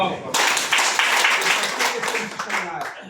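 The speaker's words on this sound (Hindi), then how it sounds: "जोरदार ताली" A crowd at a DXN business opportunity meeting bursts into sustained, loud clapping that carries on for a few seconds, dense and steady with a slight fade toward the end.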